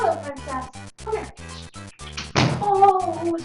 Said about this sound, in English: I think I just heard my cat.